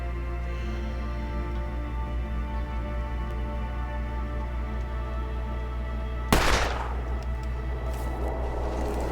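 A single sharp rifle shot in the survival game The Long Dark cracks out over a steady low background hum, then fades quickly.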